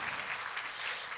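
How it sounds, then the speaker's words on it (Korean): A congregation applauds during a Korean church service. Steady, dense clapping from a crowd sounds fairly soft and distant, with no voices over it. "박수하겠습니다."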